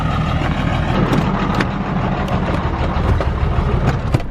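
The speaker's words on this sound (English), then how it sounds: "like I said, driving a semi" Semi truck engine running while driving, a steady low rumble that fills the cab, with faint rattles and bumps over it and no talking.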